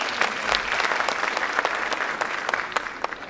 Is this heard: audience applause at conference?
yes